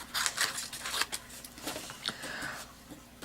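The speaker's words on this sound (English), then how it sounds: "I'm going to cut this" Scissors cut through paper for a folded greeting card, a close, busy run of crisp snips and rustling paper sounds with uneven rhythm, fairly loud with no talk over it.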